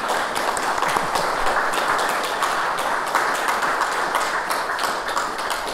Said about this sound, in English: a round of applause for bringing something like that here